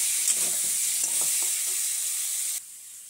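Small fish sauté in a hot pan with salt and turmeric, giving a steady close sizzle with soft stirring scrapes. The sizzle cuts off abruptly near the end.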